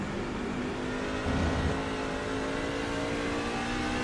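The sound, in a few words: race truck engine shifting gears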